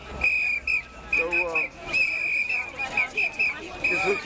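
Whistles blown by a crowd at a community launch event in Harlem: repeated shrill blasts, some long and some short, overlapping amid crowd noise and voices.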